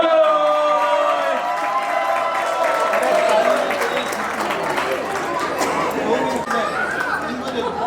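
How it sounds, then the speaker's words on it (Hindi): Guests at an engagement party clap and cheer warmly for a relative, the applause mixing with loud crowd chatter and voices that continue over it. "जोरदार तालियां अपने टाइम के जैकी श्रॉफ के लिए"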